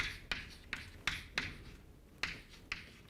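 Chalk or marker strokes on a board during a physics lecture on the electromagnetic field tensor: a series of sharp, close taps and short scratchy strokes at an irregular rhythm, with quiet pauses between them and no talking.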